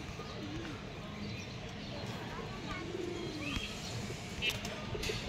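Tournament racing pigeons for sale give soft, low cooing calls alongside a few chirps, close and faint beneath a voice speaking Bengali.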